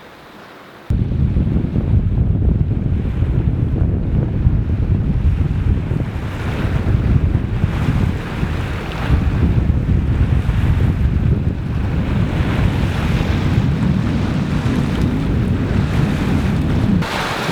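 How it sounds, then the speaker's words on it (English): Strong wind buffets the microphone while a sailboat heels along at sea off the east coast of Majorca, with steady rushing water and surf noise throughout and no voices. "It's 11 knots of wind out here."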